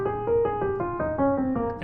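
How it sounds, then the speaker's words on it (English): A Dorian mode line over a held minor one chord in a jazz minor ii–V–i context, about eight clear pitched notes stepping in an even rhythm above a sustained low chord, played alone and up close. "If you play Dorian, it will sound like this"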